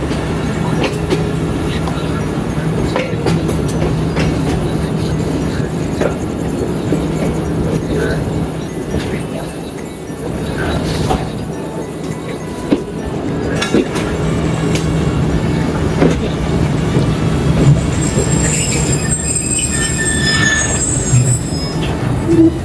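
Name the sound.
Tezgam express train passing through station on main line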